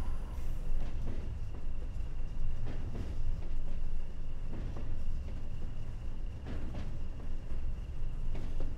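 A British Rail Class 20 locomotive with 1989 Rail Freight livery under way in Train Sim World, a steady low engine rumble with regular rail clicks and joints passing beneath, no talking.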